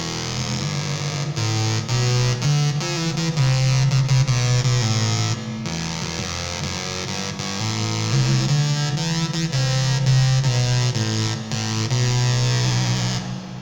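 A deep, buzzy Roland Fantom synthesizer patch for a song plays a slow low-register line, thick and distorted, with sustained notes shifting every second or so and no voices.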